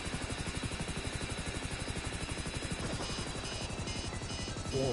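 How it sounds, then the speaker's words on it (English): A helicopter in the video game GTA Online drones with a loud, steady rotor throb and engine whine. It is continuous and close, with no talk. "The helicopter is making noise on me."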